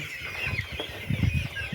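Brahma chickens with heavily feathered legs cluck nearby in a short burst of soft, low clucks and murmurs, with some rustling or wing movement.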